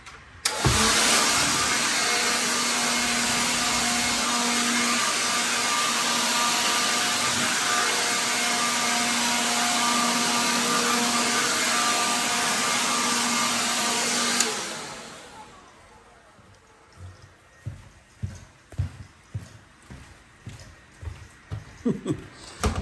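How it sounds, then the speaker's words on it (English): A battery-powered vacuum cleaner runs on carpet with a loud steady whine for about fourteen seconds, then cuts off, leaving scattered handling knocks and faint rustling. "I'm going to vacuum all this up and be back to do some cleaning."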